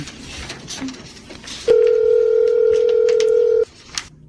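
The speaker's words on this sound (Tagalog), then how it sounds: "Sa cellphone ko nga siya tatawagan." A cellphone call is dialled, then a steady electronic ringback tone holds loud and unbroken for about two seconds before cutting off, with quieter room noise and faint clicks around it.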